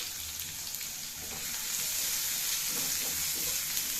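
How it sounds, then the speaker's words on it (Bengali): Chopped onion hits hot oil in a frying pan for an okra-with-mustard dish, giving a soft hiss that swells into a steady, dense sizzle after about a second and a half, with faint stirring taps. "আমি এখন ফ্রাই প্যানের মধ্যে দিয়ে দিচ্ছি কুচি করে রাখা পেঁয়াজ।"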